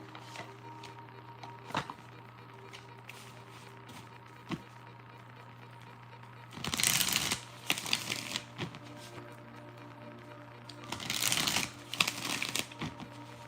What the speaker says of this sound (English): let's give a good shuffle real quick.